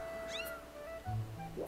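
A cartoonish cat creature meows in The Legend of Zelda: Skyward Sword on the Wii. A few rising mewing cries are heard alone over soft game ambience, with a low thump near the end.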